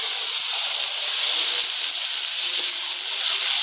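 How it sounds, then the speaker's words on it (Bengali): Water poured from a rinsed yogurt bowl hisses steadily into frying masala for Katla fish kalia, a bright, even steam hiss close by that holds without a break. "টক দই বাটিটা ধুয়ে একটু জল দিয়ে দিচ্ছি"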